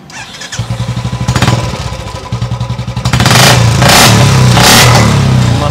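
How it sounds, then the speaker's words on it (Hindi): A Bullet motorcycle engine with an aftermarket silencer thumps loud and close, a deep rhythmic idle that surges into heavier revving with a throaty exhaust rumble, no talking over it. "मस्त साउंड है, इसमें आफ्टर मार्केट लगा हुआ है साइलेंसर।"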